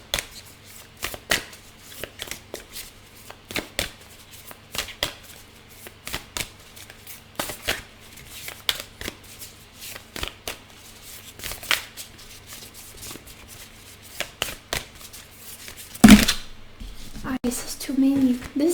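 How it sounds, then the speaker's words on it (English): Repeated crisp riffling bursts of a card deck being shuffled, close up, with a few louder clacks and soft handling noises near the end. "This deck is tricky to shuffle."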